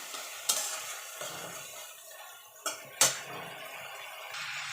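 A spice paste is fried in oil in a pan for a vegetarian grated-radish ghonto, with a soft continuous sizzle broken by several sharp scraping and clinking strokes of a spatula against the pan.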